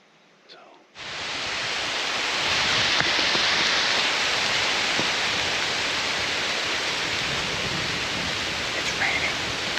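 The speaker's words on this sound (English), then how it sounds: "It's raining hard." Heavy rain falls outdoors at night in the Ohio hill country, starting suddenly and becoming a dense, steady hiss that stays loud and even throughout, with no talking.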